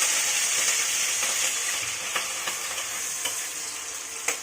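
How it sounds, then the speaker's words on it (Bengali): Shrimp frying in hot oil in a home kitchen, a continuous bright sizzle with scattered pops and crackles, close and steady with no talking. "এবার চিংড়ি মাছগুলো ভেজে দেবো।"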